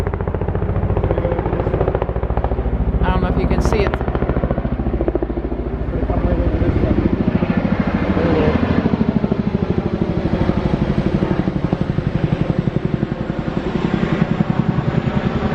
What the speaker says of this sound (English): helicopter coming over. Oh, this is going to be a big one too.